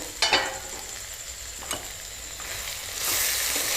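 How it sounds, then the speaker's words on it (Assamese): A pan fry of fiddlehead ferns with chickpeas and tomato is stirred, giving a few scraping strokes over a soft sizzle that swells into a louder, steady hiss near the end. "এয়া মই লৰাই দিছোঁ প্ৰায় মোৰ শাক ভজা হৈ গৈছে।"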